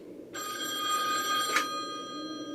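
In The Wolf Among Us, a telephone's bell starts abruptly and rings continuously, loud and near, over quiet ambient game sound.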